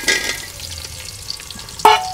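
Chopped onion goes into hot oil already holding whole cumin, bay leaf and dried chillies for a mutton curry, giving a faint, quiet sizzle framed by a couple of sharp utensil clinks.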